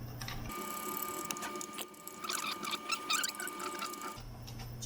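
Screws on the cover of a Heathkit SA-2 tube stereo amplifier being loosened, close scraping and squeaky ratcheting bursts over a steady electrical hum with a high whine.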